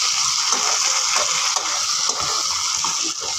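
Fried eggs sizzle loudly in a pan as soy sauce and hot tomato sauce are mixed in, a dense continuous hiss and crackle with faint stirring scrapes throughout, close up and without speech.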